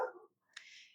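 A small pet dog gives a brief high-pitched whine following a short low sound, quiet and close, lasting under a second.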